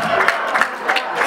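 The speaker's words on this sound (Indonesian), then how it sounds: "tepuk tangan dong" Audience clapping at a leadership talk, a short burst of brisk applause from a room of listeners, fairly loud and close.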